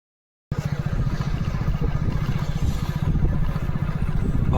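A motorcycle engine idles with a steady low, rapid chugging throb, close and fairly loud, starting abruptly after a brief silence and holding an even rumble with no speech.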